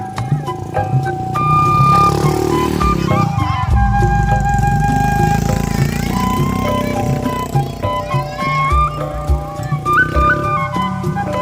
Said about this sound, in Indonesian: Oh, ada motor awas.